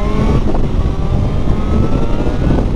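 A Suzuki GSR motorcycle engine revs up and accelerates steadily, loud and close, its rising whine carried over heavy wind noise.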